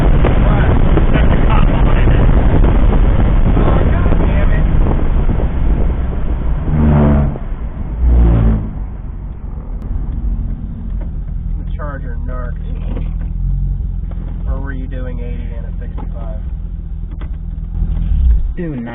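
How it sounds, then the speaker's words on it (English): A car cruising on a highway at about 90, with steady loud road and engine rumble throughout and people talking over it in the second half. "I'm going to put some footage of me driving around on the highway right now"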